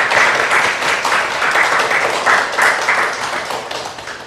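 A congregation applauds at a church service, with dense, steady clapping that fills the room for several seconds.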